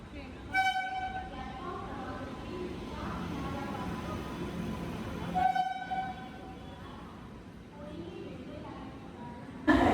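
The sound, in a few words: train arriving, sounding its horn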